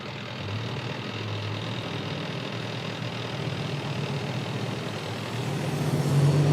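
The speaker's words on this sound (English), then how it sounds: "Look how these cars have to go around the back of this cop car right here" Cars and trucks drive slowly past a police car parked in front of a school at dismissal time. A steady traffic rumble with idling engines stays moderately close, and a low engine hum rises near the end.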